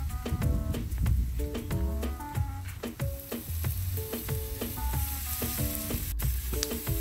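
A chicken filet topped with cheese sizzles on a grill at about 450 degrees, a steady close frying crackle with scattered ticks and pops, no voices.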